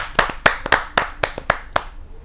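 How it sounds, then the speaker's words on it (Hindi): Audience at a Hindi poetry gathering (kavi sammelan) claps in a short burst of about ten sharp, close hand claps in a steady, slightly uneven rhythm, with no talk over it. "जोरदार तालियों के साथ श्री प्रमोद गुप्त जी का हार्दिक स्वागत है।"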